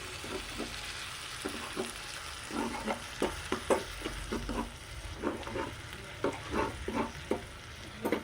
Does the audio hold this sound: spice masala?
yes